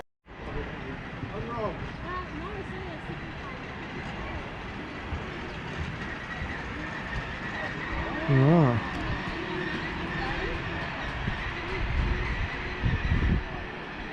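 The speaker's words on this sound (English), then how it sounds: "A nice and small train." A small train runs steadily in New Zealand, its rumble and rattle continuous and fairly close, with wind noise on the microphone and a short spoken word partway through.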